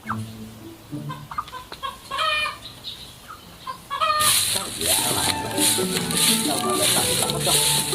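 Chickens cluck close by at a village yard, bursts of clucking and squawks overlapping, with a louder, busier flurry of fowl calls in the second half alongside other background noise.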